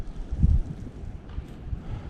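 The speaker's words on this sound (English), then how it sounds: "It's real windy again" Strong wind gusts buffet the microphone at a rainy backpacking campsite on the North Country Trail in Wisconsin, a loud rumbling burst early then steady lower rushing.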